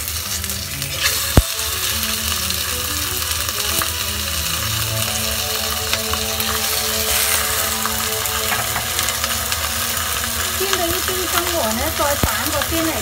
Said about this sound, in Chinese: 咁擺個魚頭落去煎啦。